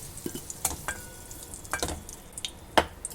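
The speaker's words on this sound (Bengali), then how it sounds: "এই আলু ভাজার তেলের মধ্যেই কপিগুলো আমি ছেড়ে দিলাম" Cauliflower florets sizzle in hot oil left from frying potatoes while a utensil stirs and scrapes the pan, with a few sharp clinks; close and quiet.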